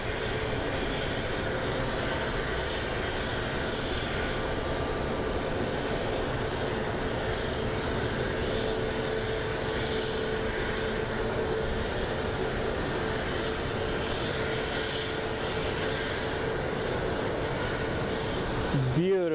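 An airliner departing Phoenix Sky Harbor International Airport, a loud sustained jet engine roar with a steady whine that holds at full strength across the whole stretch, with no clear talk.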